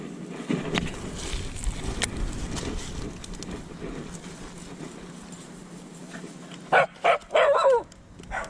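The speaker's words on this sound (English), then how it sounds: "Don't bark at me, please." Outdoors with steady background rumble, a dog lets out several loud, close barks in a quick burst near the end.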